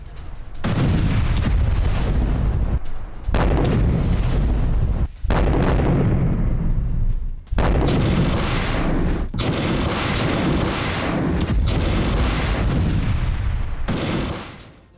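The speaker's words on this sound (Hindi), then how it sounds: "अपर गैलीली पर हिजबुल्लाह का बारूदी प्रहार। इजरायली पोस्ट पर भीषण अटैक किया गया है।" Loud, continuous barrage of artillery fire and explosions from a Hezbollah attack on an Israeli military post in Upper Galilee, with dense booms and bursts filling the whole span and a few brief gaps, no voices.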